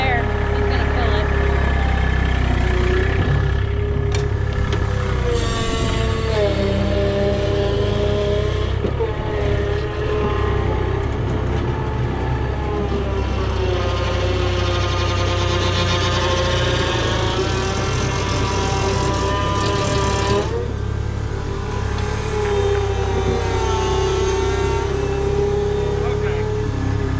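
A tractor or farm vehicle engine runs steadily on a dairy farm, a loud continuous mid-range drone close by, with people talking over it throughout.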